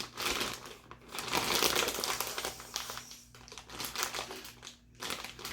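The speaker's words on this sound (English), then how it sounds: "I'm going to put it into my Ziploc bag and I'm going to squish it around to make sure that it gets a really nice coating of marinade" A steak is squished around by hand inside a Ziploc bag of marinade, producing close, continuous plastic crinkling and squelching that swells and fades in uneven waves with brief pauses.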